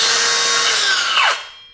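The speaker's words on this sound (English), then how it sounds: "That's an electronic braking system," A Kobalt cordless circular saw blade whining at speed, then its electronic brake cutting in, the pitch sweeping sharply down as the blade stops within about half a second, loud and close with no talk.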